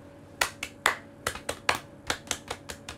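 Scout-style rhythmic clapping, tepuk pramuka, performed in a live showroom: about a dozen sharp, close claps in a quick syncopated pattern over a quiet background, with no talking.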